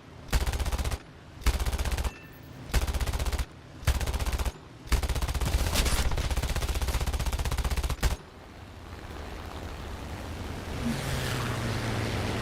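7.7 mm aircraft machine guns in War Thunder fire in four short bursts, then one long sustained burst, loud and close, giving way to steady engine and wind noise.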